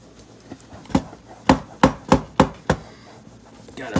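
Floppy drive parts are scrubbed with 409 cleaner to remove oil, giving a run of sharp, rhythmic scraping strokes, close and moderately loud, with no talking.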